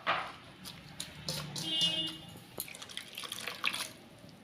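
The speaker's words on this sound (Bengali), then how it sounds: "এটাকে জল দিয়ে ভালো করে ধুয়ে নেব।" Shredded cabbage being rinsed in a bowl of water, with soft drips, splashes and trickles of handled water close by, steady and quiet throughout.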